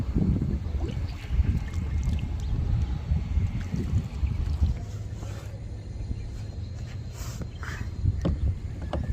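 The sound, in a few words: boat ride on water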